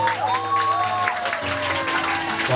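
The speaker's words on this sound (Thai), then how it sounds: "ปรบมือพร้อมกันทั้งลำครับ" A crowd on a boat cruise claps together steadily under a droning background and tonal music.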